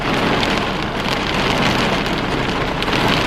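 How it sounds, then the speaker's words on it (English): Steady, dense rain falls outdoors as an even, loud hiss of drops striking surfaces, constant from start to end with no voices. "It's supposed to rain for an hour."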